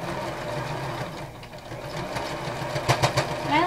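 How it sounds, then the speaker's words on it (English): A sewing machine stitches over a pin and elastic on a reversible headband, a rapid mechanical whirring with quick louder thumps near the end as the needle passes over the pin. "You want to sew over that pin."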